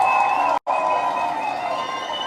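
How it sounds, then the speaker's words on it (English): An audience applauds a guest at a live political conversation event: steady, dense clapping and crowd noise fill the whole moment, cut by one very brief dropout. "Let's give him a round of applause"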